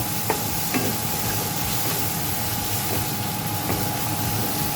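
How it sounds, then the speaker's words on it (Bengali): Ginger paste is stirred in a cooking pan over a steady sizzle, with a few soft utensil clicks and scrapes against the metal, close and continuous. "দিয়ে দেবো 1 চামচ আদা বাটা, 1 চামচ আদা বাটা। ভালো করে নেড়ে চেড়ে নেব।"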